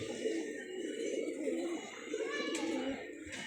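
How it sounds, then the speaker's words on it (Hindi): A tethered pigeon coos softly in a low, repeated, throaty murmur, faint and close by against quiet surroundings. "ये किसी का था जोड़ों वाला कबूतर है, या तो किसी का ये बंधा हुआ कबूतर है"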